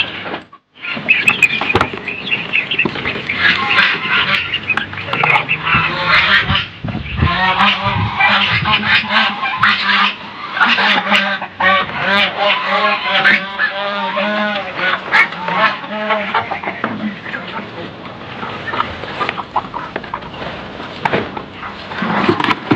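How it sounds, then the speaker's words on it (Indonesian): A dense flock of geese and ducks honks and quacks continuously, loud and close, with overlapping calls throughout. "Sekarang kita kasih bebek ya, kasih minum ke bebek,"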